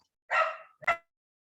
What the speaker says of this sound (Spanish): cuando sienten que un perrito pasa, empiezan como a ladrar